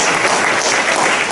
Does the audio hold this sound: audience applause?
yes